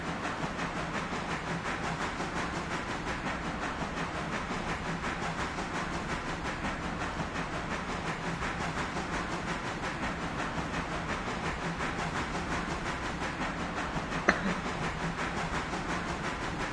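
Train running in the Railroader video game, a quiet steady mechanical hiss and rumble with a faint rhythmic clatter and one brief knock near the end, no talking.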